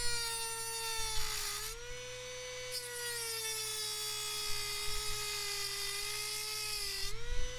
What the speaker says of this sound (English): what we're going to do is cut with our Dremel a 1/4 inch, 1/8 of an inch right at the top